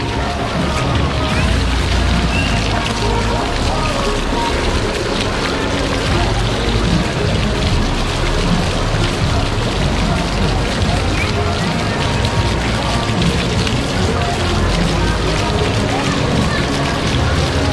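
Water splashes and pours on an amusement park water ride at Kings Dominion, a loud continuous rushing hiss like heavy rain, with excited voices calling out over it.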